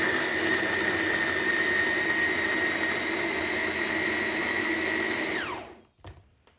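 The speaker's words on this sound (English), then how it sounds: "In a quick step, pulverize 2 tomatoes in the food processor." A food processor pulverizing two tomatoes: a loud, steady high-pitched motor whine running for several seconds, then winding down quickly to a stop, followed by a couple of faint clicks.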